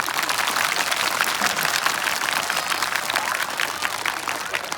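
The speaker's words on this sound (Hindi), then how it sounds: "भाई हंसी आई है तो तालियां कमजोर है आपकी" A live audience at a Hindi motivational comedy talk breaks into dense, sustained applause, a loud continuous wash of many hands clapping with crowd noise, and a voice can be heard over it.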